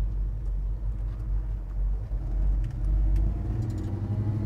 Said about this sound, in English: I like listening to that exhaust